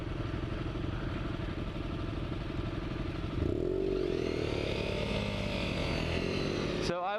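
Honda CRF250L motorcycle engine running steadily and loud throughout, a continuous rough drone with a pitch rise partway through as the bike revs and pulls away.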